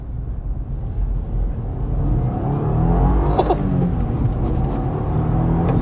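A 2023 Subaru WRX sedan pulls onto a main road, its engine note rising as it accelerates, heard from inside the car as a steady rumbling drone with a brief whir partway through.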